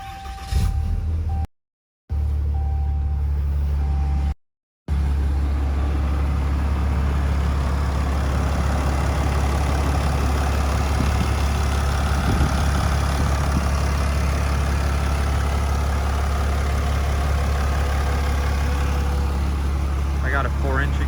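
A Cummins diesel in a brand new 2020 truck with a 4-inch exhaust idles with a steady low rumble throughout, close up, with brief dropouts near the start and faint talk at times.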